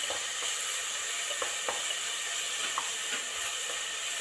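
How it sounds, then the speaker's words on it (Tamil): Whole spices tempering in hot oil with salt sizzle in a steady, close hiss, with faint stirring clicks scattered through. "உப்பு கொஞ்சம் போட்டு கொஞ்சம் நேரம் தாளித்து விடணும்."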